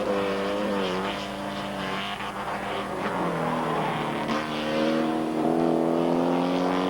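Porsche 944 race cars in a 1986 Canadian series lap the track, engines droning and rising in pitch as they pass, several cars overlapping in a steady loud roar.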